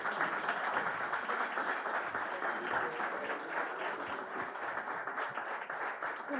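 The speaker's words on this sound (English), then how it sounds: "Give them a nice round of applause." Crowd applause at the No B.S. BBQ political event, sustained clapping from many hands heard at a distance, steady and even for over six seconds without speech over it.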